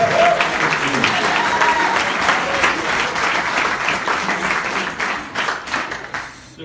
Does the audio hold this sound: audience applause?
yes